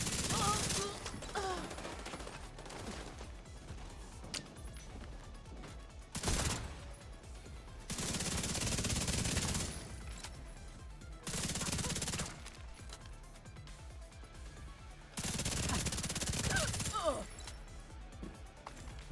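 Turret gunfire in a video game, several sustained bursts of rapid automatic fire separated by quieter gaps, loud and dense, with mechanical clatter in between.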